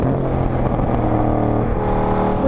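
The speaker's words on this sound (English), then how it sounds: "We are generating some G-force with the Camaro in all directions." A 2014 Chevrolet Camaro Z28 on 305-size tires is driven hard on a racetrack, its engine droning loud and steady with continuous harmonic roar and slight pitch shifts as it corners under load, with no talk.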